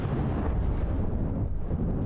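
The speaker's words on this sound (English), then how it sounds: "If we're firing this cram cannon here" A cram cannon firing in From The Depths gives a steady, heavy low rumble of blasts, loud and continuous with no distinct gaps and no talk.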